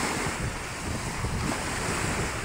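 Pacific Ocean waves surge and wash steadily, a broad continuous roar of surf with strong wind buffeting the microphone throughout.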